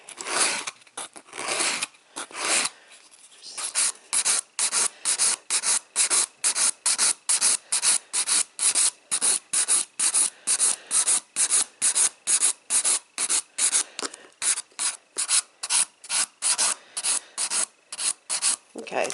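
Rapid, rhythmic rasping strokes of a file shaping a fake nail on a practice hand, dozens of short close scrapes in an even back-and-forth rhythm with brief pauses early on.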